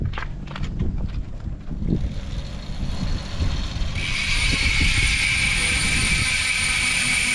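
A mountain bike's rear hub freewheel ratchet buzzes in a rapid, steady clicking that turns into a bright continuous whir partway through, close and fairly loud.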